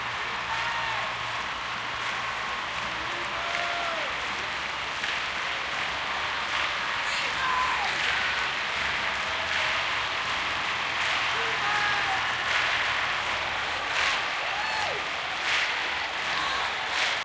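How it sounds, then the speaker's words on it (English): Crowd begging for a Freebird encore in the Guitar Hero 2 video game on Xbox 360: sustained applause and cheering from a large arena audience, steady and loud with scattered whistles over the whole stretch. "customize this encore to have the crowd begging us to play Freebird"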